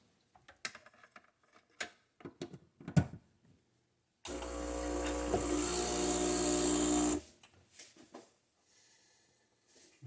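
A small, inexpensive Breville espresso machine running, with a loud steady pumping hum for about three seconds after some clicks and handling knocks, then quieter clatter.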